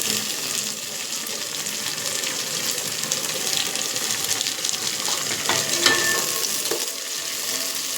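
Washed coriander and mint go into a hot pan, giving a steady, close sizzle and frying crackle throughout with a few brief stirring clinks, and no talk.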